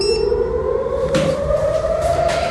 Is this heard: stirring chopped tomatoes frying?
no